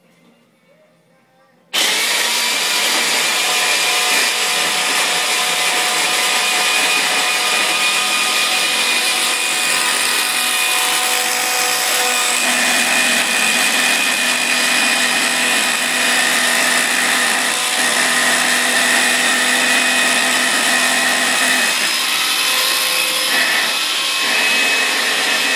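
A Viking or Cuisinart hand blender starts abruptly and runs loud and steady with a whirring, buzzing motor drone for over twenty seconds, with slight shifts in pitch.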